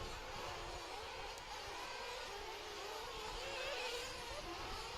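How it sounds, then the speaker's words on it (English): Continuous high-pitched engine whine from small nitro RC truck engines racing at a dirt track event, steady and buzzing with rising and falling revs, no voices. "the sound of Nitro is in the air again as we have our 40-plus Nitro truck"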